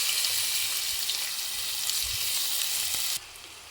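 Chopped onions fry in a spoonful of hot oil in a heated pan, a steady, bright, hissing sizzle close by that drops suddenly in intensity near the end, with no voices.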